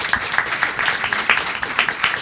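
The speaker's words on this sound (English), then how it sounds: "can we give a round of applause to all of our panel members today?" Audience applause for panel members at a digital ethics summit breakout session, a brief burst of irregular individual claps close by.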